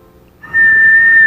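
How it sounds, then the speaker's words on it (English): A sharp, high whistle blast in a video game, starting abruptly partway in and holding as one clear, loud, steady tone until the clip ends. "You lean out the window and whistle two short blasts."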